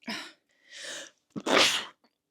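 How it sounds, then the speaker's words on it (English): A sharp, close sneeze follows two loud drawn-in breaths, then a brief faint sound before silence. "That sneeze was a risk."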